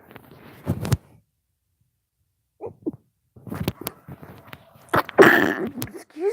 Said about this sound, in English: I got on here and I just suddenly had to sneeze.